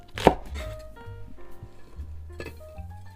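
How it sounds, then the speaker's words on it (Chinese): A kitchen knife chops ginger and scallions on a board: one sharp, close chop opens, followed by a few lighter cuts over a soft tonal background. "再切点生姜、香葱。"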